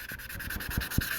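A sanding sponge rubs back and forth over a quarter-scale model kit in quick, evenly spaced scratchy strokes, close and moderately loud, with no talking.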